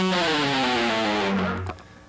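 A distorted electric guitar from a lesson sustains open E pedal tones on the low string and a high picked note that slides down the neck, then cuts off sharply near the end.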